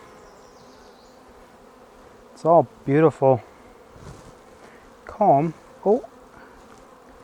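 Honeybees hum steadily from an opened hive during an inspection three weeks after installation, a soft continuous drone under a few short spoken remarks close by.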